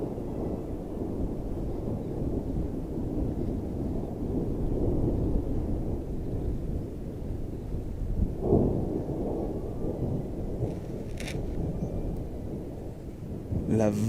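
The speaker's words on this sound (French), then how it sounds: "Il y a un éclair qui vient juste de tomber là." Thunder from a mountain thunderstorm in the Pyrenees rumbles low and continuous, mixed with rain and wind buffeting the microphone, with a sharper crack near the middle and brief noises toward the end.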